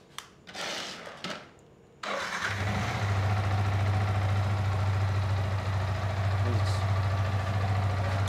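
A Yamaha R15 motorbike, just fitted with a new spark plug, cranks and starts with a few short bursts, then settles into a steady, close, even idle that runs on without a break.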